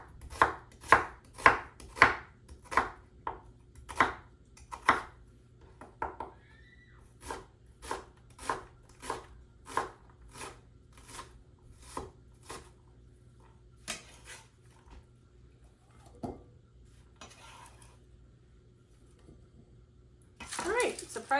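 A knife chops onions on a cutting board in a run of sharp, evenly spaced thwacks close to the mic. Scattered later cuts follow, and there is a bit of background noise near the end.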